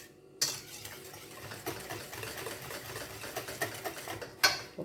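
Dough for homemade multigrain bread being mixed with a whisk in a bowl. It sounds like a rapid, steady mechanical churn with scraping clatter, close and unbroken, with sharper knocks at the start and end.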